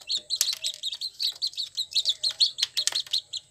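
Newly hatched chicks in a cardboard brooder box cheep in quick, high, repeated peeps, several birds overlapping close to the microphone with faint background noise.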